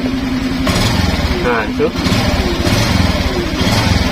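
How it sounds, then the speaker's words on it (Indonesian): A Suzuki Skydrive scooter with an electrical fault runs close by with a steady, buzzing engine note that rises as the throttle is opened, under continuous nearby talk. "Coba kita tarik gas."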